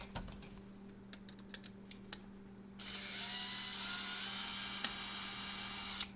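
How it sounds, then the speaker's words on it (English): Phillips screws come out of the trim on a 2019–2020 Toyota RAV4 with a tool. First come faint scattered clicks, then a steady whirring drive runs for a few seconds, close by and fairly quiet. "3 Phillips screws. We're going to go ahead and remove those."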